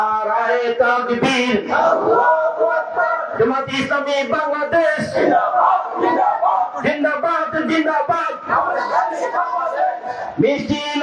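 A procession crowd at a political workers' rally in Chandina, Bangladesh, chants slogans loudly in unison, with many voices shouting in a steady rhythm without pause.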